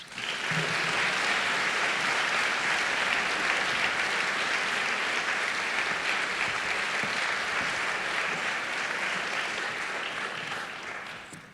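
Steady, full applause from an audience at a university McCabe Scholars Society lecture, greeting the society's co-presidents as they come to the stage. It holds for about eleven seconds before tapering off at the end, with no talk over it.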